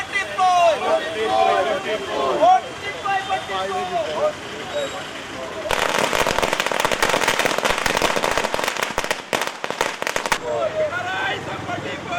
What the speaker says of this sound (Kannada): ಪಟಾಕಿ ಸಿಡಿಸಿಯೂ ಸಂಭ್ರಮಾಚರಣೆ ನಡೆಸಲಾಯಿತು